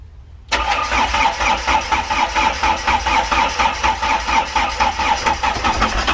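A narrowboat's diesel engine cranks and catches abruptly after a half-second of near silence, then settles into a loud, rhythmic, thumping chug that continues steadily to the end.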